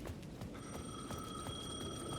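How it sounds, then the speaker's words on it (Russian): A payphone at the edge of a plaza in Alan Wake 2 rings with a bright, sustained electronic tone that starts partway in, fairly faint over a steady ambient background. "Будто телефон Payphone звонит."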